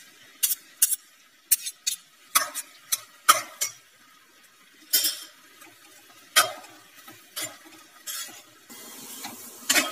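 A spoon stirs a milk mixture in a pan as it cooks down for milk cake, giving sharp, irregular scrapes and clinks against the metal with quiet gaps between strokes. No one speaks.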